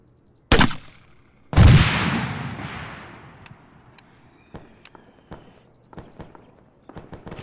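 Two loud gunshots in ArmA 3, the second with a long echoing decay, followed by scattered light clicks and taps.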